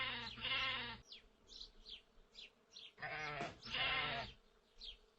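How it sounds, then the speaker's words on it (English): A sheep bleats in loud, wavering calls, two strong bleats separated by a pause, with small chirping sounds in between. "Here is a sheep."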